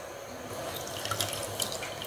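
Homemade orange wine pouring and trickling through a cloth strainer, a steady close liquid splashing with a few drips, no talking.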